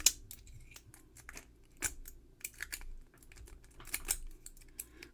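A cheap Harbor Freight lock is worked with a rake pick in a quick zip attack, giving sharp, close metallic clicks and scraping rattles in irregular bursts, with no talking.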